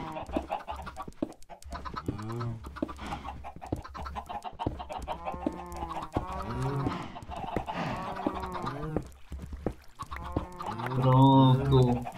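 Chickens in the video game Minecraft cluck repeatedly, close and steady, under a person talking over a low continuous background tone.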